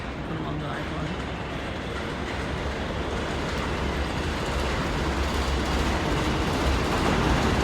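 A train passing close by outdoors, a loud, steady rumbling roar of rail cars with a continuous low drone that builds slightly over several seconds.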